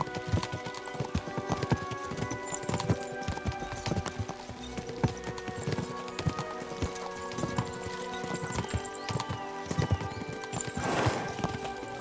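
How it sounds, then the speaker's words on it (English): Rapid, dense hoofbeats of horses galloping in Kingdom Come: Deliverance II, with a horse whinnying near the end, loud and continuous over a busy background. "We should spur the horses on."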